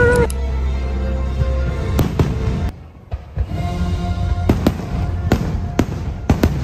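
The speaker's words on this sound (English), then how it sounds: "now the fireworks are going" Fireworks show at Disney World: repeated booms and crackling bursts, some sharp and others rumbling, loud against constant crowd noise with voices talking in the background.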